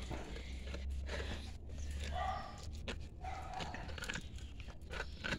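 Pinscher dogs gnaw and crunch on hard bone treats amid scattered clicks and scrapes, with low background rumble and occasional faint movement nearby.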